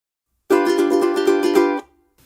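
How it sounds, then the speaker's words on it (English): A large dog gives one sudden, deep, buzzing sneeze or belch. The burst is loud and close, lasts just over a second, and is heard alone against silence. "what you're about to hear is Julie's giant dog, Rocky, sneezing or belching or something"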